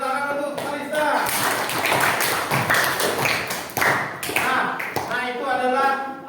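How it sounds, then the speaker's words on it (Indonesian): Classroom clapping for a student named Kalista during a school coaching session, a steady burst of hand claps mixed with voices and talk throughout. "tepuk tangan untuk Kalista"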